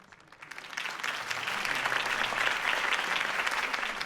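Crowd applause following a campaign speech in the Batman: Realm of Shadows video game, swelling from quiet to a full, dense ovation of many hands that holds steady with no voices over it.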